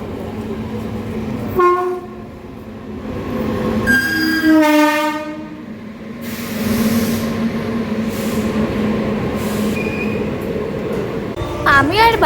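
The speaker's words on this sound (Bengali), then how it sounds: "ট্রেনের টাইম হয়ে গেছে, এবার মনে হচ্ছে ট্রেন আসবে" A train pulls into Kasimbazar station, its horn blaring in two strong blasts over a low rolling rumble of wagons that carries on throughout.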